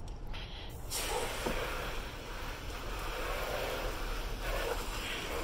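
Water sprays steadily onto a car headlight, rinsing off soap in a continuous close hiss that holds for several seconds after a brief quieter start.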